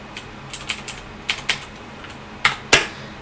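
Irregular clacking keystrokes on a computer keyboard, about a dozen sharp clicks in uneven bursts, close and alone in a quiet room.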